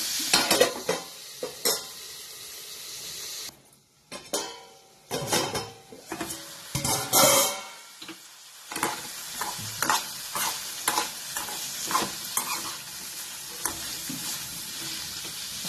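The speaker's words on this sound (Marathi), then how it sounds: "गॅस थोडासा मोठा करा आणि पुन्हा चांगलं थोडंसं भाजून द्या, म्हणजे टोमॅटो" Tomato frying with salt in a pan over a gas flame, stirred with a utensil; near, steady sizzle broken by repeated scrapes and knocks of the spoon against the pan, with no talking.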